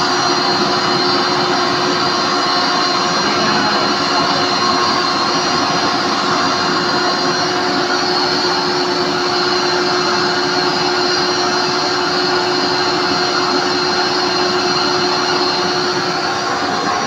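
Steady, dense sizzling and hissing of empanadas deep frying in oil, continuous and fairly loud throughout, with a constant hum underneath.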